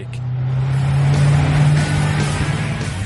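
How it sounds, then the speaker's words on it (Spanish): The twin-turbo 5-litre V8 of a Koenigsegg Agera supercar runs with a steady, deep droning hum that swells slightly and then holds, heard from close by with no talking. "Cuando pones en marcha el motor, evidentemente la cabina se inunda con el sonido del motor."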